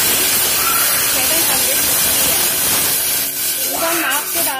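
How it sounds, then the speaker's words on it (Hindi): Water poured into a heated pot while making sugar syrup for gulab jamun, a loud continuous hissing sizzle that stays steady throughout and eases slightly near the end. "पानी, पूरा नाप से डाल रही हूँ मैं।"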